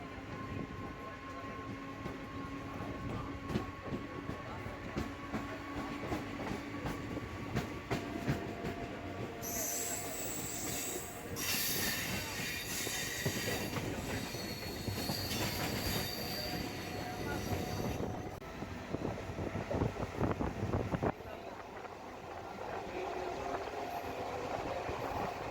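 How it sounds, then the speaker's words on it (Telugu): A Secunderabad-Warangal MEMU train pulls out of Cherlapalli station, heard from inside as a steady rolling rumble with repeated wheel clatter and long bursts of high metallic squealing midway, moderately loud and continuous. "చెర్లపల్లి స్టేషన్ నుంచి అయితే ట్రైన్ స్టార్ట్ అయింది"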